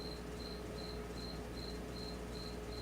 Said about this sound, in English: Sorry about that cricket chirping.